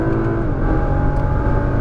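A Nissan GT-R engine pulls hard under throttle, a steady, loud, close-up roar and whir that holds throughout without a break, with no voices.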